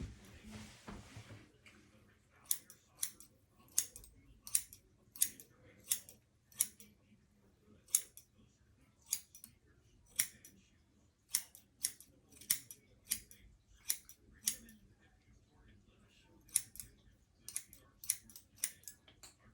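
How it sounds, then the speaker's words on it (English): Hair-trimming scissors snip at the back of a man's haircut in a steady series of crisp, close metallic cuts, roughly one or two per second, with quiet room tone between them. "So now I'm going to go to the back again and start trimming the back."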